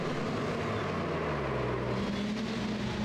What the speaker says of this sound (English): I hear a car in the background.